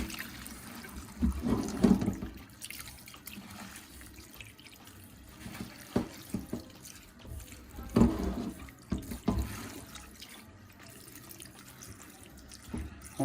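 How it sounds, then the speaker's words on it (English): Callaloo greens for a Jamaican dish are rinsed under a running tap, a steady close splash of water with louder surges of sloshing and dripping as the leaves are handled. "So let me rinse it one more time."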